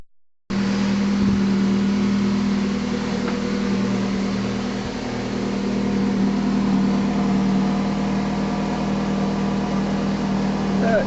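A Citroen Xantia HDi diesel engine idles steadily while warming up on a cold day, a close, even low hum with a constant tone throughout and no revving.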